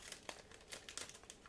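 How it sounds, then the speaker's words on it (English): Scissors cutting open a sealed plastic bag from a Miniart 1/35 Ball Tank with Winter Ski model kit: quiet close crinkling and snips in several short irregular bursts over about a second and a half. "And now let's open it with the scissors."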